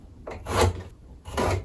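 Two short rasping strokes of a marker or pencil drawn along a speed square across a wooden board, close and distinct, separated by a brief pause, with no talking.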